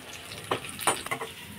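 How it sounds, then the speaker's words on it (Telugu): A tempering for tomato rasam frying in a pan off the heat, a soft close sizzle with a few brief crackling bursts over a short stretch, no talking. "బాగా ఫ్రై అవ్వాలి."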